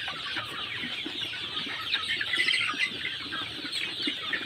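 Sonali and desi hens, some suffering from colds in winter, cluck steadily and close by, a busy overlapping chorus with no talking.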